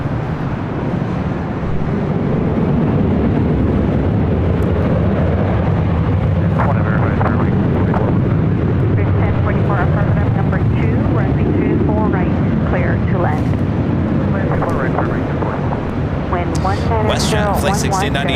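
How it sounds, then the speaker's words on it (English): Airbus A330 airliners, including an A330neo, taking off from the north side runways at LAX, a steady loud jet engine roar filling the whole stretch while people talk over it. "Both of those should be north side takeoffs coming up."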